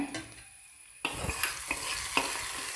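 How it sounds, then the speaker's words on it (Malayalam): Mustard seeds hitting hot ghee in a pan for a mutton curry: quiet at first, then a sudden loud sizzle that keeps crackling with several sharp pops, close up and with no talking. "നമുക്ക് കടുക് പൊട്ടിക്കാം"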